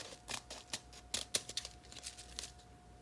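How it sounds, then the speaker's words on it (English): Scissors snip excess acetate sheet off the edge of cardstock in a quick series of close, crisp cuts, some sharp clicks standing out, with quiet pauses between. "just turn it over and then just trim off that excess acetate"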